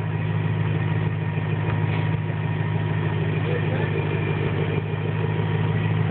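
A car with a GT Haus performance exhaust idles in a steady, loud, low drone, with a slight rise in engine note but no sharp revs, and faint voices underneath.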